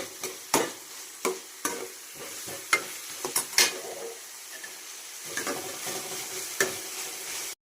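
Prawns and bommidi fish frying with ginger garlic paste in a pan, a steady sizzle broken by repeated scraping stirs of a spatula, close and fairly loud with no talking.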